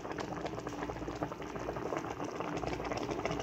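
Pochero broth with carrots and potatoes at a rolling boil in a pot, a steady dense bubbling and gurgling that holds constant and close throughout, with no voices.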